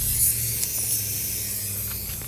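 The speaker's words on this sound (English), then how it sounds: "that'll just spray away for probably another, 2 to 3 minutes, but it'll create a mist that'll go through the entire under part of your house" An insecticide bug bomb fogger releases a steady, loud hissing spray of mist under a house, continuous and close with only slight fluctuations, no speech.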